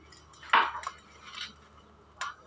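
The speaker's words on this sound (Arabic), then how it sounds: "هلا حقطع بصلة" Knife chopping an onion in a home kitchen: a few distinct sharp cuts against a board, the first loudest, spaced irregularly with quiet gaps between.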